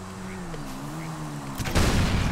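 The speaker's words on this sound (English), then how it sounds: "I had a gunshot." A gunshot in Grand Theft Auto V: a sudden loud crack and burst of noise near the end, following a steady low hum with a voice talking over it.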